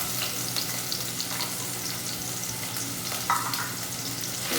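Rice, onion and garlic sauté in a hot pan for a seafood risotto, giving a dense continuous hiss and crackle with occasional light stirring scrapes, close up and with no voices.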